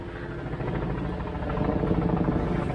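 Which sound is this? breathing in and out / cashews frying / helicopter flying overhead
helicopter flying overhead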